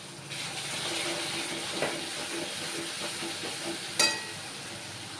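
Water poured into a pan of hot okra and potato curry, a continuous hissing sizzle with a watery rush, close and moderate, with a couple of sharp clinks near the end.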